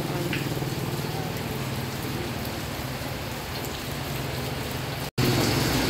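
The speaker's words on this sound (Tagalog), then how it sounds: "It's raining." Steady heavy rain pours down through the whole stretch, a dense continuous patter on surfaces, broken by a brief dropout near the end before the downpour resumes just as loud.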